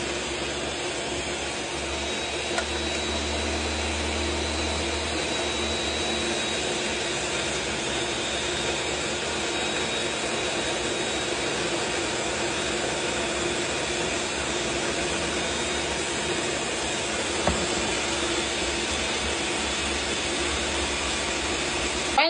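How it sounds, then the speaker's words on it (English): A blender runs steadily at medium speed for over twenty seconds while blending pistachio pesto with extra virgin olive oil, giving a constant loud whirring drone. "I'm going to blend it on a medium speed."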